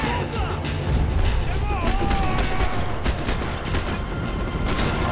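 Dense gunfire from the Max Payne 3 video game, rapid overlapping shots and bursts running continuously with mechanical clatter, while someone talks over the top.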